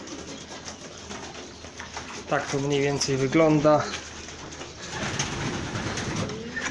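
Racing pigeons cooing in a loft, with a few close, low rhythmic coos rising above steady background ambience while someone speaks nearby.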